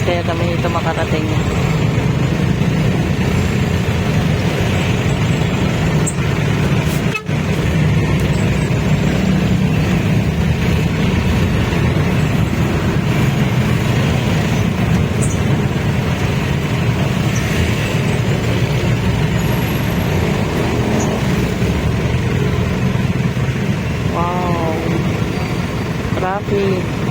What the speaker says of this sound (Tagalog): Wow, daming sasakyan sunod-sunod.